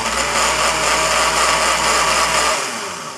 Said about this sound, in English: I'm going to turn the blender on. Just watch what happens to the water.